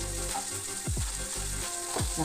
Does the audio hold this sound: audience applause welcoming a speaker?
no